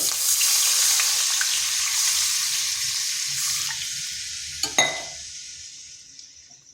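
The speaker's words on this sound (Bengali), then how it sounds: "এরপর একটু ভেজে নিচ্ছি যাতে আদার কাঁচা গন্ধটা চলে যায় দিচ্ছি দুই বাটি জল" Chopped ginger fries in a pan with a loud, close sizzle that slowly fades, then a short splash as water is poured in around the middle, after which the hiss dies down to near quiet.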